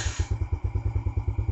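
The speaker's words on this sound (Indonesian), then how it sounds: "kita nyalakan mesin motornya terlebih dahulu" A small underbone (bebek-style) motorcycle engine runs at a steady idle, its low exhaust thumps pulsing in a quick even rhythm close by, with no talking.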